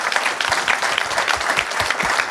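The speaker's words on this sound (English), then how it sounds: "Please give a great round of applause for our panelists." Attendees at a cybersecurity conference in Houston applaud a panel of security chiefs, a short, lively stretch of close clapping with distinct individual claps standing out from the crowd.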